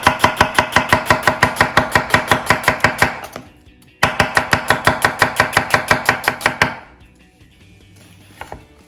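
A knife slices an onion into thin slices on a board in quick, even chops, two bursts of about a dozen crisp knocks each separated by a brief pause, close and loud.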